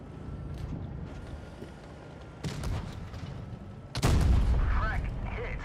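Tank guns in World of Tanks Blitz, with a muffled rumble of battle and then two sharp, loud impacts, one near the middle and a heavier blast late, as shells fire and bounce off armor under a voice speaking.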